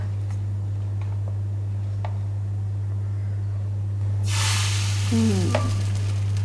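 A steady low hum runs throughout, then a sudden soft sizzle rises as crepe batter hits a hot pan in a café, with a few light clinks.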